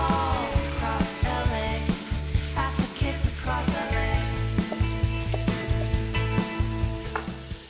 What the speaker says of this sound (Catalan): desglaçarem amb vi blanc